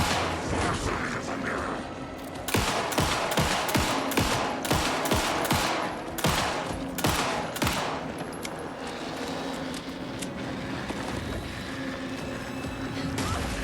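Pistol shots in Alan Wake 2, a run of sharp, fairly evenly spaced cracks fired in quick succession over a dark ambient game background, then tapering off.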